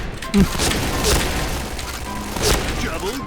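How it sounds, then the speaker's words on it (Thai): Grenade blasts in a Thai-server Point Blank shooter match, a few booming bursts with dense gunfire-like crackle around them, loud and close amid talk. "ปาระเบิดเข้าไปครับปาระเบิดเข้าไป"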